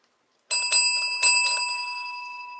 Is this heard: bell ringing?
yes